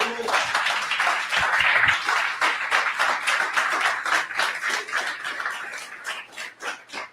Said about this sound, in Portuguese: dê mais um aplauso para ele